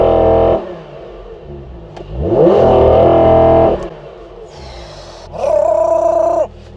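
An Audi R8 V10 Performance engine revs hard in a few loud, rising bursts with throttle blips and clattering overrun between them, close by and with no talking.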